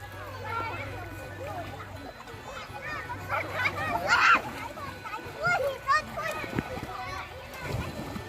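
A jump into water at a swimming spot in a mountain-valley village produces a brief splash partway through. Children chatter and shout almost the whole time, over a steady low hum.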